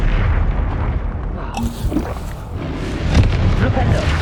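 Fiery Confringo spell blasts in Hogwarts Legacy on PS5, booming explosions and bursting impacts rumbling amid continuous combat noise, with a voice speaking over the action.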